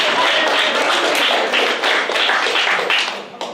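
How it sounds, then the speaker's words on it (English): Applause from a town hall audience in Swanzey, New Hampshire, a thick, continuous wash of clapping that stays loud throughout and thins slightly at the end. "Let's give a round of applause for somebody."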